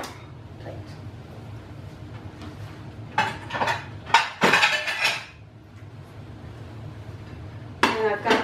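Plates and a small pan clattering and clinking in a home kitchen during tortilla making, with a cluster of loud, close clanks midway and another short burst at the end over low room noise.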